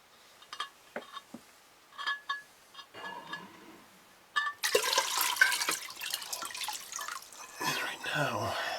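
Water drains from a water heater tank into a dish, starting as scattered drips and splashes, then becoming a continuous noisy trickle and splatter, with someone talking over parts of it.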